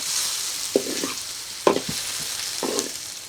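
Spices are stir-fried in a pan in a Thai home kitchen: three scraping stirs over a soft sizzle, fairly close and with no talk.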